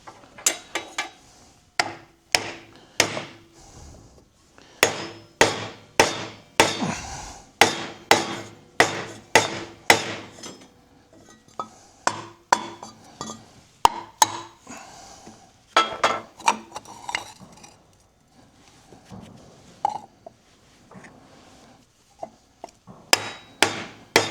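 Repeated sharp hammer blows strike metal and wood in quick bursts with short pauses, loud and close, continuing steadily throughout.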